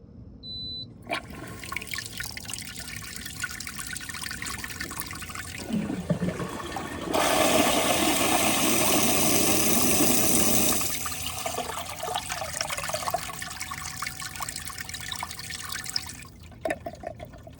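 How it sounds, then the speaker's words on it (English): An SR Sun Rise combination electronic toilet and bidet runs a full flush: a light trickle, then a loud rushing surge of water for several seconds before settling back to a steady trickle and drip. "So now I'll show you what a full flush looks like."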